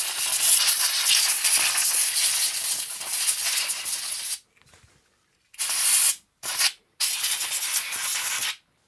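Rubbing old lubricant off Amiga 1200 drive parts, close scratchy continuous scrubbing that stops briefly, then returns in short bursts and a final stretch.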